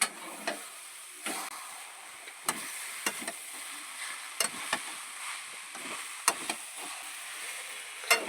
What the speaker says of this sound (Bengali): ভেজে রাখা বিট গাজর সেটাকেও মিশিয়ে দেওয়া হচ্ছে